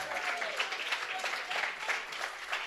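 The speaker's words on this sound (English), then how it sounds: "Listen to this crowd." A wrestling crowd at a tag team championship match applauds and cheers steadily, a dense wash of clapping with rhythmic surges and occasional whistles, heard from within the arena.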